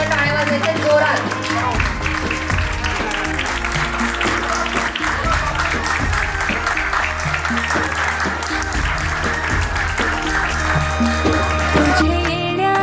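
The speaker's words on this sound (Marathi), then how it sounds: "सगळ्यांनी परत एकदा टाळ्या वाजवायच्या जोरात" Guests at a baby's naming ceremony clap loudly and continuously for the whole stretch, a dense close crowd applause over music, with voices murmuring underneath.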